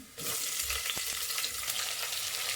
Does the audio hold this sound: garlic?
yes